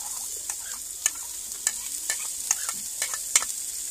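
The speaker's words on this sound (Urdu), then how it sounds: "تو اس میں اب ہم ڈالیں گے لہسن" Garlic stirred into frying onions for karahi, a steady soft sizzle with sharp spoon scrapes and clicks against the pan every half second or so, close and alone.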